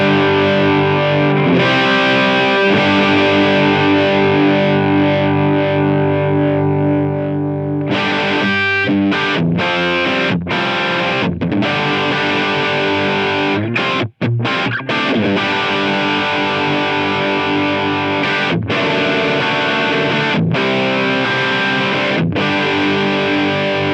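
An electric guitar runs through a Helix Bogner Shiva amp model, playing loud, heavily distorted sustained chords and then choppier, rhythmic strummed hits with brief muted gaps.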